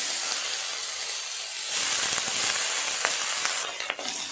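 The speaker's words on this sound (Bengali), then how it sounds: "নেড়ে চেড়ে সবজিগুলো একটু ভেজে নেব, তারপর শাক দেবো" Vegetables and leafy greens fry in a pan with a steady, close hiss and sizzle, interrupted by a few light stirring knocks.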